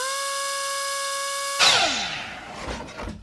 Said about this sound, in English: over here at the miter saw, we just need to go ahead and square up this end right here.